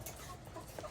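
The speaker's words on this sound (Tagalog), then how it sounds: "Kawawa rin itong mga manok na to." Chickens cluck in a hot, stuffy coop: a brief, fairly faint burst of hen calls over a steady background hiss, with no talking.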